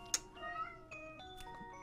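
A house cat gives a couple of short, fairly close meows in a quiet room, with faint background clicks between the calls.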